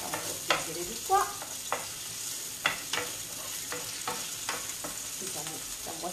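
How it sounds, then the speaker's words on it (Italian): Ingredients sauté in a hot pan as a base for cherry tomatoes in an Italian home kitchen, with a steady close sizzle broken by irregular scrapes and clicks of a utensil stirring against the pan. "Questo lo facciamo soffriggere di qua"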